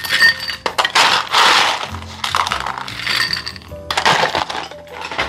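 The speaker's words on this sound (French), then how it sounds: "Vous venez remplir le verre de glace pilée." Crushed ice clinks and rattles into a cocktail glass in loud, close bursts with short pauses between scoops.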